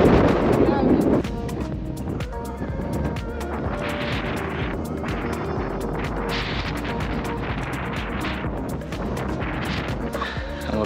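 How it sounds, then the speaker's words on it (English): Steady, heavy wind buffeting the microphone with a low roar throughout, plus a louder gust at the start, on Maderas Volcano, Ometepe. "Oh, it's windy."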